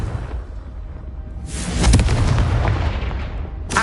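A Confringo spell explosion in the video game Hogwarts Legacy: a low rumbling boom swells midway and bursts into a loud blast with crackling debris.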